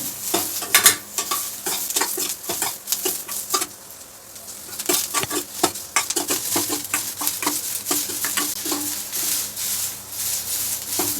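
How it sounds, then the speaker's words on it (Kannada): Half an onion frying in a pan for Kannada methi bath, with a steady sizzle broken by repeated scraping and stirring strokes of a spoon against the pan, close by and without voices. "ಒಂದು ಈರುಳ್ಳಿಯಲ್ಲಿ ಅರ್ಧ ಹುರಿಯೋದಕ್ಕೆ ಹಾಕ್ಕೊಳ್ತೀನಿ"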